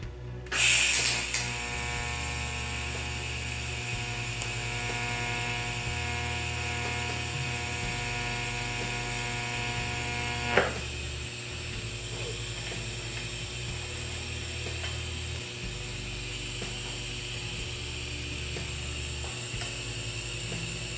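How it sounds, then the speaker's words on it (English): A TIG welding arc fuses a stainless steel spoon bowl to a wire handle, giving a steady close buzzing hum with a crackling hiss, a sharp snap near the middle, and no talking. "I'm going to strike an arc, and I'm going to see if I can meld these two together"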